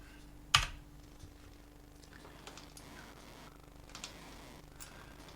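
A computer keyboard gets a few sparse, faint key taps in a quiet room, starting with one sharper click and followed by soft scattered presses over a low hum.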